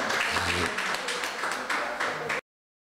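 Audience applause during a radio programme, a dense burst of clapping with a murmur of voices beneath, cutting off abruptly partway through.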